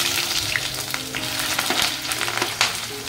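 Whole spices and vertically sliced onion frying in hot oil for a prawn biryani, giving a steady close sizzle with small crackles and faint stirring scrapes.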